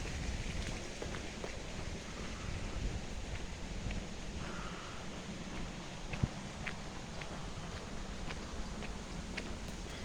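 The Toddbrook river, swollen and raging at the Cheshire–Derbyshire border, gives a steady broadband rush of fast water, continuous and fairly loud, with scattered small splashes and taps over the flow and no talking.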